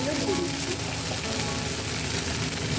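Jute leaves frying with onion in a pan, a dense, steady, close sizzle that fills the whole stretch with a crackling hiss, and a voice talking over it.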